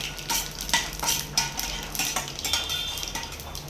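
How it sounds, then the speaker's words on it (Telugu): Peanuts frying in a pan and being stirred, a continuous close sizzle with regular scraping and clinking strokes of a utensil against the metal, no voices. "ఇవి బాగా సిమ్లో పెట్టుకొని శనక్కాయ పప్పులు బాగా ఫ్రై చేసుకోవాలి."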